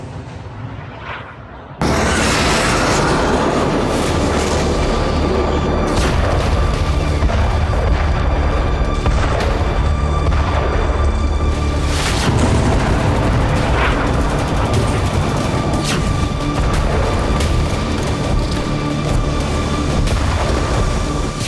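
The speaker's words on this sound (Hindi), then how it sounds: "कुछ सेकंड की न्यूज़ रील में देखिए कैसे इजराइल और गाजा में बारूदी गदर मचा हुआ।" Heavy explosions and gunfire from a news reel of the Israel-Gaza war form a loud, continuous roar of blasts and crackling shots after a quieter opening.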